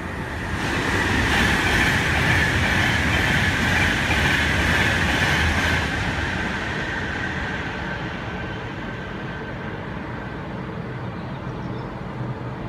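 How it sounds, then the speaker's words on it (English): A Virgin Trains Class 390 electric train rushes through Milton Keynes Central station with a loud, steady roar of wheels and rail clatter that fades slightly toward the end, with no voices. "Another Virgin trains class 390."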